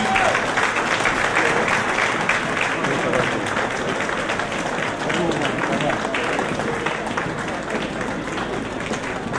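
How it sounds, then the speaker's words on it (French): An audience at a gala in Philadelphia applauds steadily as a delegation arrives, a dense, continuous clapping from a large crowd with a voice speaking over it. "La délégation arrive, il faut les applaudir jusqu'à ce qu'ils s'asseyent."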